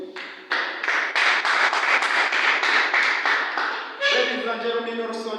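A debate audience claps for the competing teams, a dense, steady burst of many hands that starts abruptly and runs on, with a voice speaking over the tail end.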